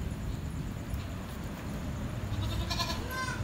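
At a goat market in Lhokseumawe, a goat bleats once, thin and somewhat distant, near the end of a stretch of steady crowd and outdoor noise.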